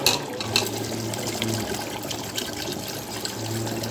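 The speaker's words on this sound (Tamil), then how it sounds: "இப்போ உலைக்கு தண்ணி ஆட் பண்ணிக்கலாம்." Water pours steadily into a cooking pot of soaking rice for mutton biryani, a fairly soft, continuous splashing trickle with no voices.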